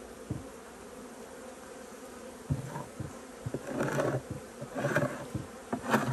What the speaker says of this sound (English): Every one of these bees you see land on me right now would be stinging me if I didn't have the suit on.